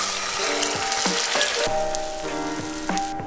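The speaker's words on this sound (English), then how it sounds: "crack 4 eggs directly into the pan next to the bacon and cook them until your sunny-side-up eggs are to your" Sunny-side-up eggs fry in a pan beside bacon, giving a steady close sizzle and crackle throughout, with a few brief clicks and scrapes of utensils on the pan.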